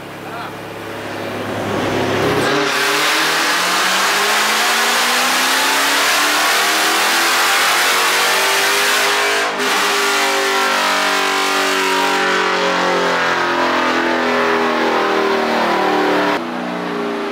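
A Dodge Hellcat accelerating hard through a full-throttle pass, its engine roaring loud and close, the pitch climbing steadily for about fourteen seconds before cutting off abruptly.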